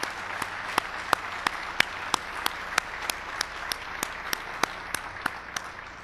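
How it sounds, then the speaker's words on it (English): A crowd applauding steadily at an Army keynote address, with sharp, evenly spaced claps standing out in a regular rhythm over the continuous patter of hands. "Let's give them a big round of applause."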